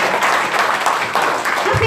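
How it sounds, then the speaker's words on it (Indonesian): Seminar attendees at a Prudential financial planner event in Makassar burst into loud applause for Prudential, a short, close, dense clap mixed with crowd noise and a voice starting up right at the end. "Tepuk tangan buat Prudential"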